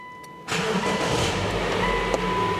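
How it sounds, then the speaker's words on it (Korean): A Subaru Legacy 2.5GT spec.B's turbocharged 2.5-litre boxer engine, at about 150,000 km, cranks and catches with a sudden burst, then settles into a steady, close idle rumble. "시동 걸어서 엔진 소리 들으면서 추가적인 옵션 설명드리도록 하겠습니다."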